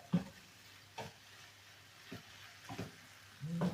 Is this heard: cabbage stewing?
yes